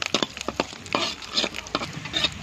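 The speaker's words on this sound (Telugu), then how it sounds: "ఎల్లుల్లిపాయ పలుకులు వేసుకున్నాం కదా, ఒలుచుకున్నాం కదా, అవి అయితే వేపుకోవాలి" Peeled garlic cloves frying in a pan, with a busy crackling sizzle and repeated scraping stirs of a spatula, close and fairly loud, no talk.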